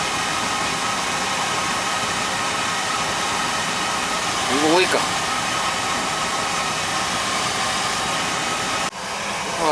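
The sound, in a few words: old Beckett oil burner running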